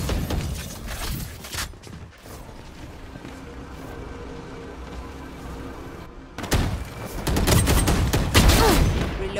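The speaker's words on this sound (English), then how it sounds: "Swarm grenade out." Swarm grenade blasts in Valorant, a burst of crackling, popping explosions at the start, a quieter stretch, then a louder volley of rapid booming bursts toward the end.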